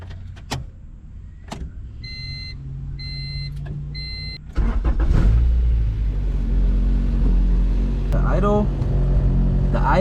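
A Honda B20 VTEC engine cranks over and catches halfway through, then settles into a loud, close idle with a fluctuating, uneven note and a brief rev near the end, after a few clicks and beeps beforehand.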